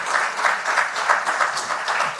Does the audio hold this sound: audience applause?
yes